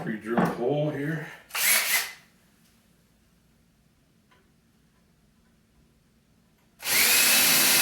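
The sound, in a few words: power drill drilling a pilot hole in wood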